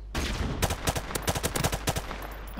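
Submachine gun fire in the remastered Modern Warfare game on the Pipeline map, a steady rapid-fire stream of loud, close shots in repeated bursts, with no talk.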